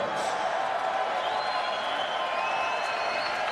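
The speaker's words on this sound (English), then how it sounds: "let's have a round of applause for these 2 middleweight warriors" Steady applause and cheering from an arena crowd after a UFC middleweight bout, a dense continuous wash of clapping at a constant level with no voices on top.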